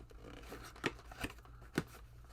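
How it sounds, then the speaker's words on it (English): Scissors snip through packing tape on a heavy box: three short, sharp cuts spaced irregularly over a couple of seconds, close and fairly quiet against a faint background. "So we have scissors to open up the tape"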